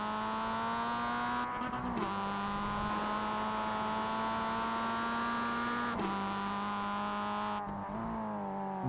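A Mazda MX-5 race car in the MX-5 Challenge at Summit Point Jefferson pulls away after spinning, its engine droning loud and steady at close range with two brief gear-change dips and rising revs, no voices present.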